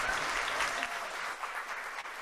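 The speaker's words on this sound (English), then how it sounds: "Let's give one more round of applause for our incredible panel." A dense, steady wash of applause from an audience at a summit panel session, many hands clapping together at close range, easing slightly toward the end.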